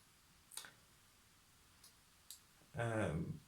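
A few sharp clicks at intervals, like a pen being clicked, then a voice starts talking near the end.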